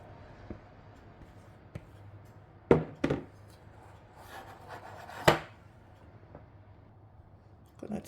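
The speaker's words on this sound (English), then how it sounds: "let's scrape this bowl out" A spatula scrapes boxed cake mix batter out of a mixing bowl in a few soft rubbing strokes and a couple of sharper scraping knocks, close and fairly quiet with pauses between.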